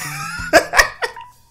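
A person coughs three short times, close by, the bursts spaced about a quarter to half a second apart and fading toward the end.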